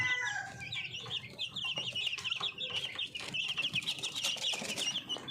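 Young Orpington chicks cheeping and clucking together, a continuous stream of high, rapid peeps from a small group close by.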